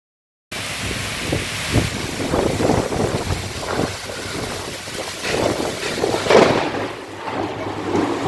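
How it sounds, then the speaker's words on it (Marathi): Heavy rain pours steadily while thunder rumbles and wind gusts buffet the microphone, loud and continuous throughout. "जोरदार पाऊस काडाक्यासह"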